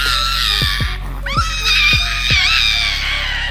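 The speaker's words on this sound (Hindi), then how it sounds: "लिनेक्स गहरी गुर्राहट, तेज म्याऊ म्याऊ और डरावनी चीख जैसी आवाज निकाल सकता है" A lynx lets out a drawn-out, high, wavering scream that rises and bends, with deep rhythmic thumps pulsing underneath, loud and close throughout.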